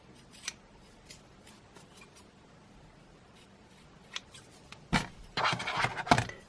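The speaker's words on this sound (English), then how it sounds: "trim off your ends." Scissors trimming yarn ends on a crocheted flower coaster: faint scattered snips and handling sounds at first, then a cluster of louder, close cuts and rustling in the last seconds, with no talking.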